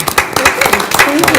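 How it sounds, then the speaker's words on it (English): A brief burst of clapping at a city council meeting honors a group of bowlers, with many hands applauding close by in quick, uneven claps. "Just give them a round of applause."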